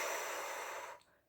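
A single heavy, forceful exhale, a loud close breathy rush lasting about a second before cutting off into quiet.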